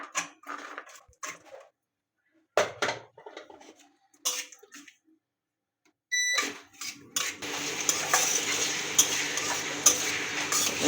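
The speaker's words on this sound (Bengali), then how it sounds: "এবার পেঁয়াজ দিয়ে পেঁয়াজ ভেজে নেব।" Onions hit hot oil after several seconds of scattered kitchen clatter and quiet pauses, turning into a steady, moderately loud sizzle with light clinks for the rest of the stretch.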